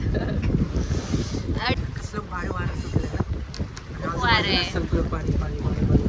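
Boat out on the water in Kerala, a steady broadband rumble of wind and water running under people talking the whole time.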